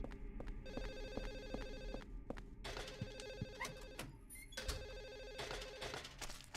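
A telephone rings repeatedly in the Silent Hill 4 video game, its bell tones sounding in steady bursts against a dark, droning ambient background, quiet and somewhat distant.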